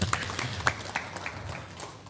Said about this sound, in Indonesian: Supaya semangat, kita tepuk tangan dulu dong.